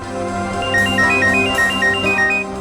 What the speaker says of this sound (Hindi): सर निखिल का फोन।